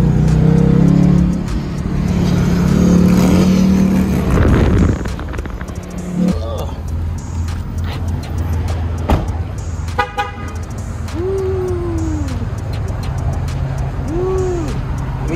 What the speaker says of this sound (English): And the Mustang just sounds so fucking good